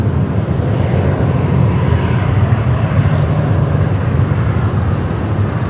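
Qantas airliner engine roar at Sydney Airport, a steady loud low rumble with broadband whine filling the whole stretch, no voices over it.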